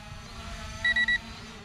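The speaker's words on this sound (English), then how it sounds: "And it does send out a continuous beep." A ZLL SG908 KUN three-axis gimbal quadcopter in headless mode gives three short, loud electronic beeps in quick succession over a faint steady background hum.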